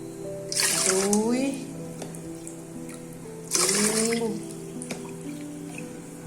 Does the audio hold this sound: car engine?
no